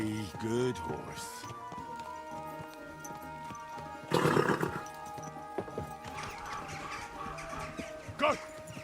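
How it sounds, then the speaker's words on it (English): Horse hooves clip-clop alongside repeated neighing and whinnying, with a louder burst midway, under a steady background of game sound and music from Kingdom Come: Deliverance 2. "Easy, good horse."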